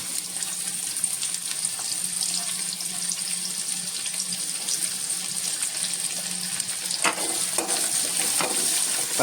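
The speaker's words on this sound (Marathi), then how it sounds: "इथे मी तेल ठेवलंय तापत आणि हा कांदा आता फोडणीला घालतोय" Steady sizzling of onion frying in hot oil for tempering, a dense crackling hiss with occasional sharper pops and faint kitchen clatter, no talking.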